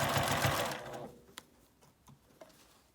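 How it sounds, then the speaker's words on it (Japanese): A sewing machine topstitches the edge of a tote bag to close the turning opening, running in a loud rapid burst for about a second, then stopping, followed by a few faint ticks and clicks. "返し口のところを閉じるようにして表側に端ミシンをかけます"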